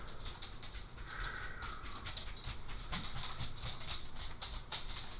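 In the DayZ video game, a dog whimpers and pants in a run of thin, high whines over a soft background hiss, with faint hoof-like clopping mixed in.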